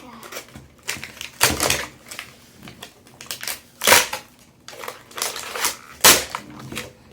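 Tape being pulled off a Valentine's Day LOL Surprise toy package, heard as several irregular crackling rips and peels close up, with talking between and over the bursts.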